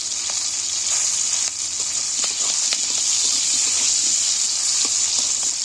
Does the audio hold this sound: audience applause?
no